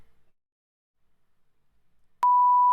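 A remote control gives a single clean electronic beep, a steady pure tone lasting about half a second with sharp clicks at its start and end, loud against near silence.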